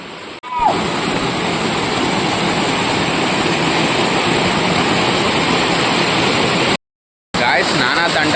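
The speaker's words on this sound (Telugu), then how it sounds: "ఈ బండల వెనకాల వచ్చేసి ఇదిగోండి వాటర్ ఫాల్" A waterfall roars as a loud, steady broadband rush heard up close, unbroken apart from a brief drop-out near the end.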